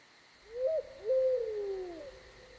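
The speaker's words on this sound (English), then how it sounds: "The owl was above him." An owl gives two soft, wavering hoots in a quiet night setting, the second longer and sliding downward, heard clearly and alone with no talking.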